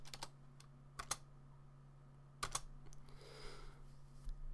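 Sparse keystrokes on a computer keyboard as a command is entered at a terminal prompt: a few quiet, separate clicks with long pauses, over a faint steady electrical hum.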